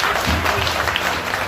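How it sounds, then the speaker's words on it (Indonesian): Congregation clapping for God during a church revival service at a Protestant church in Wasior, a steady dense applause filling the whole moment without pause. "Tepuk tangan buat Tuhan."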